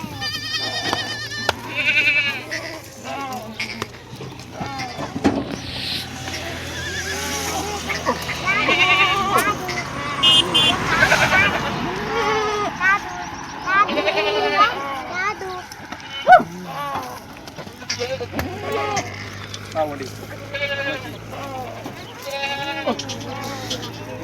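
Kathiawadi goats bleating from a delivery vehicle at a goat market, many overlapping nasal bleats close by, mixed with people talking throughout.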